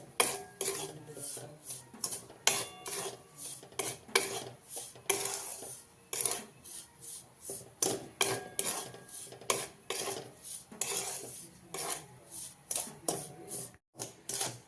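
Sago flour being stirred as it roasts in a pan over low heat, a steady run of close scraping and rasping strokes in a brisk, repeated rhythm, with no talking.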